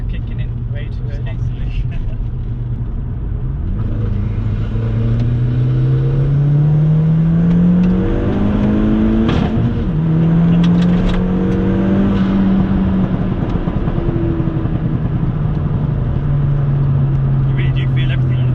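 A tuned stage 3 VW Polo GTI of about 300 bhp revs up and holds a loud rising engine drone, with brief crackles near the midpoint that could be exhaust pops, heard from close by.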